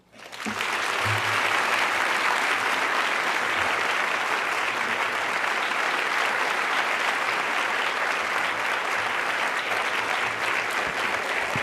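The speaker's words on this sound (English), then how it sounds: "Thank you for the applause." Audience applause at a luncheon welcoming Newark Mayor Cory Booker, a dense, steady roar of clapping that builds quickly and holds loud and close to the end.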